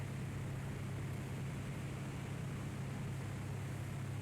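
A single-engine Alabeo M20R Ovation propeller plane in a flight simulator gives a steady, even engine drone with a low hum and airy broadband rush throughout, without a clearly audible throttle change.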